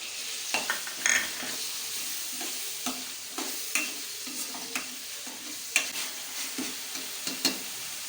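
Onion paste fries on low heat in a pan with a soft, steady sizzle, broken by repeated scraping and clinking as a spoon stirs it, close up and with no talking.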